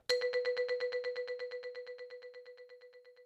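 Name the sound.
single keyboard note with fast delay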